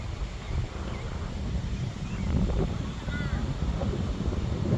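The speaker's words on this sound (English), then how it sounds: "Yeah, it's really windy out here." Strong wind blowing outdoors, buffeting the microphone with a steady low rumble and gusty roar, plus a faint whine from a small model plane in the distance.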